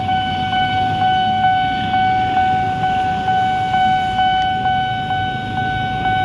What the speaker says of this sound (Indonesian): ada kereta guys